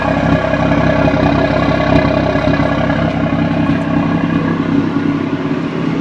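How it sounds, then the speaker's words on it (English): BMW M340i G20 with aftermarket Valvetronic exhaust, valves open, holding a steady low engine drone near idle, close and fairly loud, no talking. "that is the Valvetronic exhaust"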